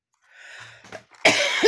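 A single sharp, loud cough after some soft breathing and a throat sound, followed by a brief second burst.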